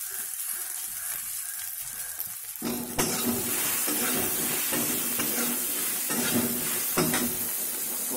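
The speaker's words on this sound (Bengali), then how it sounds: "কুলগুলো দিয়ে আমরা কুলগুলোকে ভেজে নেব" Jujube fruits (kul) fry with salt in a pan, a quiet sizzle that jumps to a loud, dense crackle as they hit the oil, broken by repeated scraping stirs.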